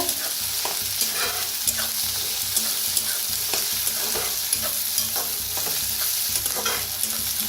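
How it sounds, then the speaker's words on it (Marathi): Onion and spring onion roast with curry leaves in a hot pan, giving a steady, close sizzle with frequent scraping stir strokes throughout and no talking. "कांद्याची पात आणि थोडासा कांदा होता बघा, ती छान असं भाजून घेऊया दोन्ही बी, कांदा कांद्याची पात।"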